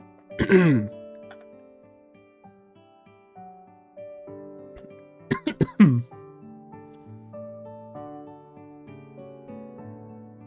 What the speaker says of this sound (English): my coughing is getting worse